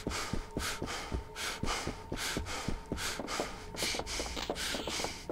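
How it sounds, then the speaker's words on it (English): A male character in the Dead Island video game pants heavily while running, with quick, rhythmic breaths alongside steady footfalls, close and continuous throughout. "I hate listening to dude pant when you're running around."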